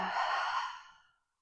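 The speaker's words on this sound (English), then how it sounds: "Big inhale in, fill up through your lungs. And exhale, let it go." A single long, airy exhale released during a guided breathing meditation, close and soft, fading out into silence after about a second.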